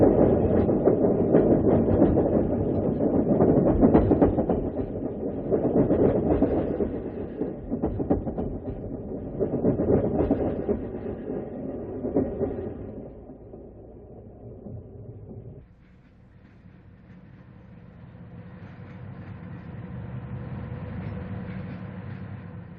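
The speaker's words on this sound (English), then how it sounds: "Now arriving in Fostoria, Ohio, is the westbound B&O Shenandoah, train number 7." A westbound B&O Shenandoah diesel passenger train, number 7, crosses the C&O tracks and slows into Fostoria station in Ohio, a loud rolling rumble with engine throb and wheel clatter that fades to a quieter idle as it stops.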